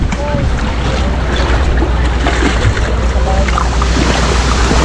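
Big waves on a lake slap and wash against a small boat under a loud, constant roar of wind and rushing water, with engine-like rumble beneath.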